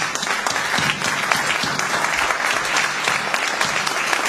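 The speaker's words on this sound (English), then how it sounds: "Let's give her a nice round of applause." An audience claps in a steady, dense round of applause for a woman honored at a gathering of San Jose community leaders, sustained at even loudness throughout with no voices over it.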